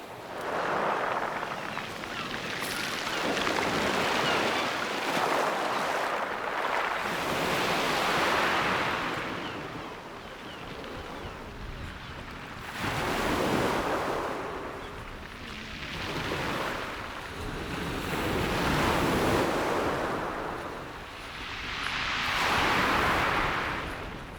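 Sea waves rolling in and out, imitated by a voice or instrument: slow, breathy rushes of noise that swell and recede in a calm, repeating rhythm, about five surges, with no talking over them.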